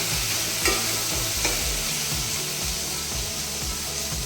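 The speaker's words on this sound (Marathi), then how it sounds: "हलकीशी आपल्याला तेलामध्ये भाजून घ्यायची पेस्ट" Spice paste for street-style cabbage and potato pakoda frying in oil, a continuous dense sizzle with rhythmic scraping of a spatula stirring the pan throughout.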